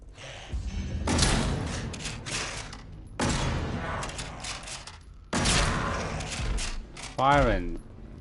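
Automatic gunfire in the video game Atomfall, three loud sustained bursts of rapid shots, each lasting about two seconds with short gaps between, ending in a brief whooshing sweep.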